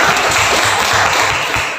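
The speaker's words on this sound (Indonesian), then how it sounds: "Tepuk tangan untuk Anda semua." Students in a classroom are applauded with a dense, steady wash of clapping from many hands that fills the whole short stretch at close range, fading slightly at the end.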